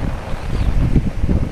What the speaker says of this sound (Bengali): প্রচণ্ড হাওয়া দিচ্ছিল।